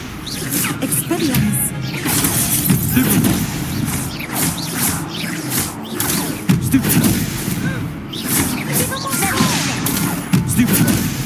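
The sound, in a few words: Expelliarmus spell cast in the Hogwarts Legacy video game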